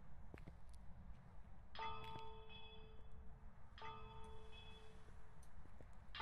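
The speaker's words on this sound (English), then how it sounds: "So, ring the bell 3 times." A bell rung in the horror video game Phasmophobia, two clear metallic clangs about two seconds apart, each ringing out and fading, quiet over a low background rumble with no talking.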